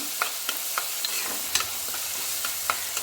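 Tomatoes sauté in a pan under a soft, quiet sizzle, punctuated by a regular series of light scraping stirs about every quarter second, close up and without speech.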